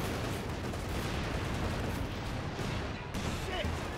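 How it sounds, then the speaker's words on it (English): Anti-tank gun firing on a Panther tank in Company of Heroes 2 amid a dense battle, with steady rumbling gunfire and booming shots packed under continuous combat noise. "I'm killing it with my AT gun."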